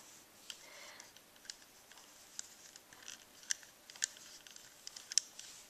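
Scissors snip through rubber loom anchor bands on a Rainbow Loom bracelet, giving faint, close, sharp clicks spaced irregularly, a few crisper snips near the end.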